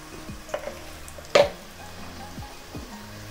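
Onions frying in a pan with cumin seeds for chicken curry; a soft steady sizzle with a few stirring scrapes and one louder clatter of the spoon against the pan.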